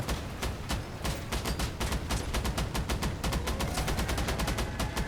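Steady automatic gunfire aimed at an enemy vehicle in Crossout, a fast regular stream of sharp, evenly spaced shots that continues without pause, moderately loud and unaccompanied by talk.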